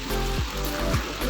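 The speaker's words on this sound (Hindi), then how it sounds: "अब हम ये चिकन इसमें फ्राई करेंगे।" Chicken pieces deep frying in hot oil over a medium-high flame, a steady broadband sizzle and bubbling that runs continuously without a break.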